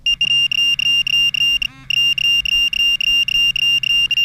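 A Pro-Find pinpointer held over a nail gives off a loud, continuous, rapidly pulsing electronic alert tone with steady beats and one brief gap.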